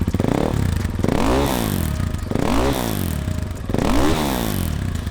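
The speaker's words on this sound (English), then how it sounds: "We put on a Krapovich slip-on exhaust. Makes a much nicer noise, as you will listen to it now." KTM EXC motorcycle fitted with an Akrapovic slip-on exhaust, revving loudly and close in three repeated rising-and-falling engine sweeps, with mechanical clatter underneath.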